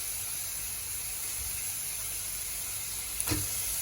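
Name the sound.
frying pieces in oil with salt and turmeric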